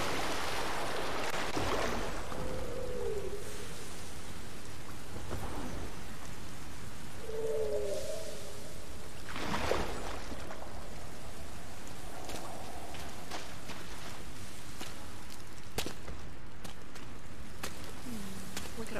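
Rain in the video game Sky: Children of the Light, a steady, moderately loud patter and wash running throughout, with a person talking over it now and then.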